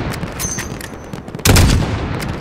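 Rapid gunfire rattles through a video game battle against Al Qatala soldiers, with dense overlapping shots and a sudden louder, heavier burst midway that stays intense to the end.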